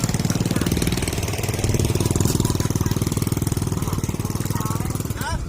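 A loud, close diesel engine chugging steadily with a rapid mechanical knock, continuous throughout, like a tractor running nearby.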